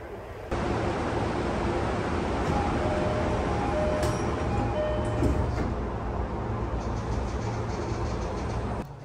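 An E233 series train running on the Yokosuka Line, heard from inside the car as a steady, loud rolling rumble and hiss that holds throughout with no talking.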